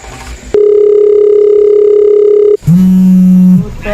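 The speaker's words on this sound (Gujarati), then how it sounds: "લે મારા કાળુ ભાઈને ફોન કરવા દે એટલે હમણાં વાતચીત કરું." A steady telephone dial tone plays loud and close while a call is being placed, holding for about two seconds, then switching to a lower tone after a brief gap.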